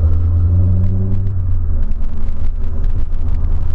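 A VW Polo's engine rumbles steadily up close, a deep low drone holding throughout as the car accelerates, with tonal harmonics shifting early on.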